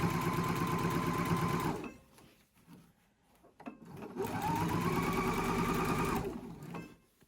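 A sewing machine stitches along the edge of a fabric wine bag in two close, loud runs of rapid steady whirring, with a quiet pause of a couple of seconds between them.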